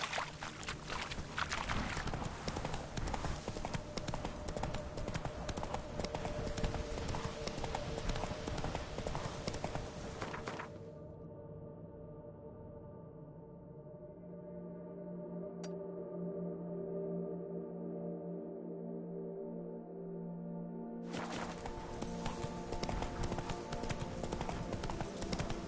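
Horse hooves in The Witcher 3 video game, a rapid steady clip-clop of galloping up close, dropping out briefly midway under quieter ambience before resuming, with a faint voice at moments.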